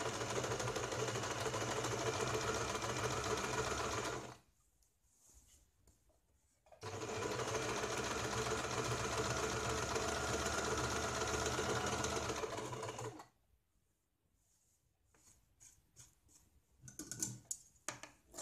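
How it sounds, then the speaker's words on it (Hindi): A sewing machine stitches a sleeve in two long, steady runs of rapid mechanical whirring, separated by quiet pauses, ending with a few faint clicks and handling noises. "अब इसके ऊपर हम पूरी एक बार सिलाई लगाते हैं शुरू से"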